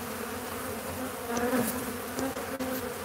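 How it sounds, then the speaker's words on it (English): Honey bees swarm around an opened hive full of comb in Douglas, Arizona, a dense continuous buzzing hum, fairly close and steady, swelling slightly at moments. "Do not mess with bees yourself, and if you know where a hive is, don't fuck with it."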